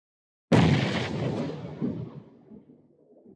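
A grenade blast from a battle-royale video game match, a single loud sudden boom that hits at once and rumbles away over a few seconds with a trailing low roll, no voices.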